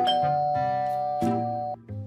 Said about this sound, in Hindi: तभी दरवाजे की घंटी बजी।